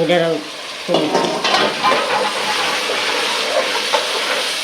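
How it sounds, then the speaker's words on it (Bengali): Rice for pulao sizzles in a pan as a spoon scrapes and stirs it in rough, repeated strokes, close and fairly loud. "আমার চাইলটা খুব সুন্দর করে একদম ভাজা ভাজা হয়ে গেছে"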